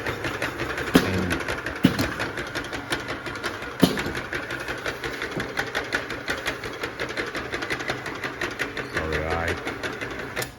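A YTK-150C round bottle fixed-point labeling machine runs steadily with a busy, whirring mechanical clatter as a bottle spins inside, a few sharp clicks standing out, with a person talking over it.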